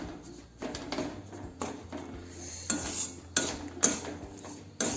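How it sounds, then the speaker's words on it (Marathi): A wheat flour modak mixture is stirred in a pan over the stove, with a spoon scraping and clinking against the metal in irregular, close strokes. "हे हलवायला कारण आपण हे मंदाचेवर आचेवर हलवतो सुरुवातीला मंद आचेवर नंतर थोडंसं फास्ट गॅस करून"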